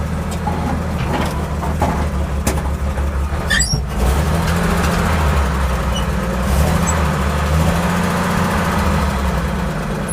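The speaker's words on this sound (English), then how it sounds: "All right, we had to take her out for a rip." A car with a homemade exhaust fabricated from scrap pipe rumbles loudly and steadily as it drives, a deep continuous engine drone close by with no talk.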